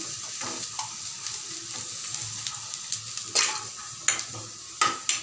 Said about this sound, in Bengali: লাল লাল করে ভেজে নিচ্ছি আমি